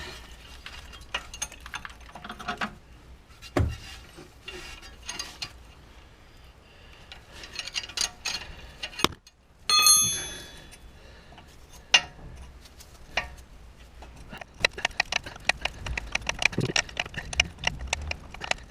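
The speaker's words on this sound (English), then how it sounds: "2 spanner trick to get some extra leverage." Spanners working a 19mm ball joint on a 1995 BMW E36 318i, heard as scattered metallic clicks, knocks and ratchety taps with a brief squeal of strain, close and irregular without speech.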